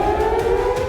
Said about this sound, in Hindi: धमाके के बाद यरूशलेम में